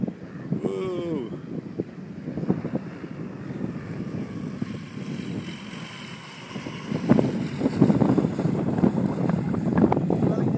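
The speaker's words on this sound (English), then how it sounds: "It's windy as hell." Strong gusting wind buffets the microphone during a Pegasus Quantum 912 microlight landing, a constant roar swelling louder near the end, with voices talking briefly early on.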